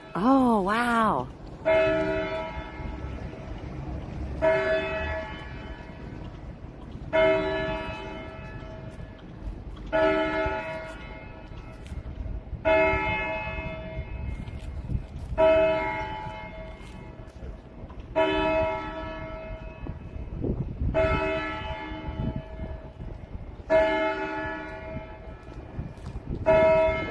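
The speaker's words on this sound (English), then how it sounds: "I didn't realize the bell was right there." A church bell tolls loud and close during a peaceful street march and protest, with about nine evenly spaced ringing strikes roughly every three seconds, each resonant tone overlapping the next above faint background crowd noise.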